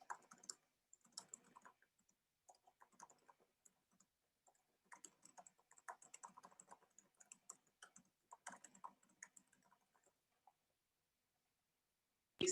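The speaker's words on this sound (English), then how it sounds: "ASMR typing." Quiet, close keyboard typing for ASMR, with clusters of soft clicking keystrokes broken by short pauses, faint and alone without any voice.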